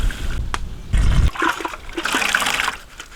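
Hot water splashes and pours as goat intestines coated with turmeric and salt are rinsed, giving a close, sloshing wash with a few sharp splashes and a steady trickle.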